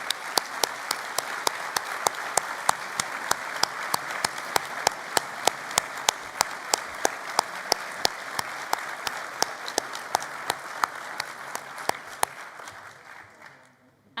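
A conference audience at a Labour Party Conference awards party gives recipients a long, loud, steady round of applause, dense clapping sustained throughout before tapering off in the final seconds.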